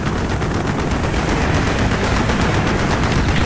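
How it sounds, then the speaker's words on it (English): Anti-aircraft guns fire from a ship deck in Call of Duty: Black Ops, a loud, dense and unbroken barrage of rapid rattling bursts with no talk over it. "Taking AAA fire from the deck!"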